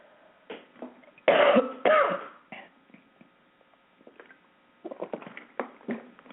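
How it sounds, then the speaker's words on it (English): Several harsh coughs and throat clearings come in bursts, two loud ones close together, then a cluster of smaller coughs later. "you might have to listen to a lot of coughing today"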